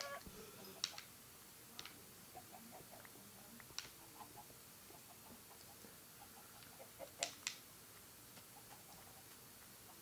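Faint, scattered Minecraft chicken clucks come in short bursts over a quiet background hiss, with a few soft clicks.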